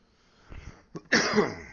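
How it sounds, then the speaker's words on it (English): A single sharp cough bursts out loud and close after a few quieter throat noises, heard alone with no talk, from a person wearing a headset during a live in-room football game broadcast. "I coughed and the headset almost fell off"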